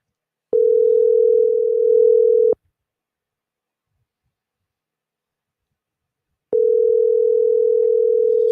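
A telephone dial tone rings out loud and steady for about two seconds, stops for roughly four seconds of silence, then returns, all without any talking.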